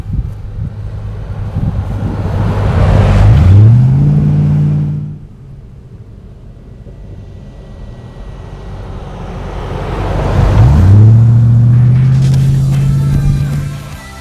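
Land Rover Defender 110 fitted with a 4.6-liter Rover V8 passing by twice outdoors, each pass a loud swelling engine roar that rises and fades, with wind noise in between and no talk.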